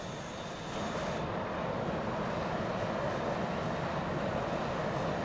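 Fighter jet engine in a flight simulation game swelling into a steady, broad roar during takeoff, continuous and fairly distant-sounding with no voices.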